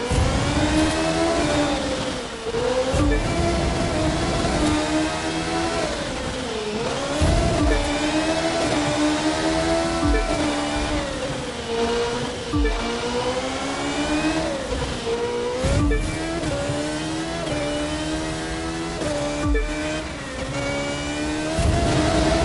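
Race cars tearing through Washington in The Crew 2, engines revving and shifting in repeated rising pitch sweeps, loud and close, with continuous engine roar and no talk.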